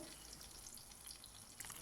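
Onion and garlic paste with salt and turmeric fries in a pan, giving a steady, fairly faint broadband sizzle that keeps going evenly with no talk over it.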